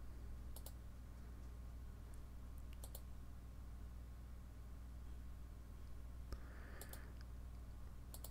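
Quiet computer mouse clicks sound while navigating the Fedora 28 Beta GNOME desktop: a few sparse, sharp clicks scattered over a steady low hum.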